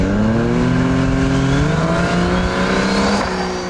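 A Barra-powered Ford XD Falcon and an LJ Torana launch side by side at a drag race, with loud, sustained engine roar and rising revs through the gears, close and continuous with no talk.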